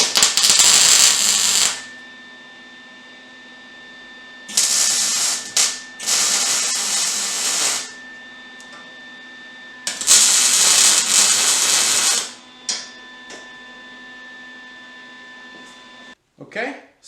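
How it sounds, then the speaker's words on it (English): Welding a spring tab onto an exhaust pipe for a Polaris XC700-powered crosskart gives several loud, steady bursts of crackling hiss, a couple of seconds each, separated by quiet gaps. "I'm just going to weld it on, and we can put our spring on there"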